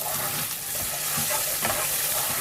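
Chopped onion sizzles in hot melted butter in a pan while a spoon stirs it for a chicken pie, giving a continuous frying hiss with soft scraping strokes close by.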